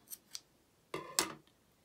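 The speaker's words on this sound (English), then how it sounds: "I'm going to cut my yarn" Scissors snipping yarn after a crochet piece is fastened off: two faint light clicks, then two sharper close snips of the blades, quiet and isolated with no talking.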